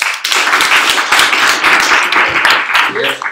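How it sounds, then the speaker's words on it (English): Steady audience clapping fills the clip, loud and sustained, with a voice speaking briefly near the end. "let's applause to each team"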